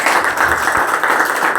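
A church congregation applauding, dense steady clapping from many hands filling the room throughout at a fairly loud level.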